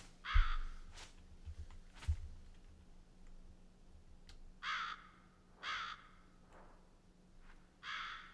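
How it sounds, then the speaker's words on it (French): A crow caws repeatedly in Demon Slayer: The Hinokami Chronicles 2, harsh raspy calls spaced a second or so apart over a low rumbling background, fairly close and clear. "Quel braillard ce corbeau."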